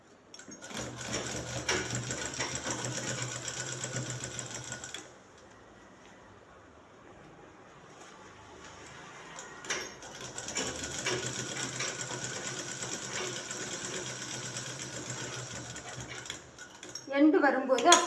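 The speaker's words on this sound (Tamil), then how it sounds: "பிசுறு துணியெல்லாம் உள்ளே விட்டுட்டு ஓரமாக தைக்கலாம்." An electric sewing machine stitching a shirt collar, running in two long steady whirring bursts separated by a quiet pause, loud and close, with brief clinks of handling near the end.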